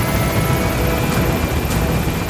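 An extraction helicopter arrives in a stealth action video game, a dense continuous rotor roar and rumble filling the whole moment at steady loudness with no talk.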